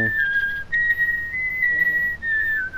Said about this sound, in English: I cut you off with the whistle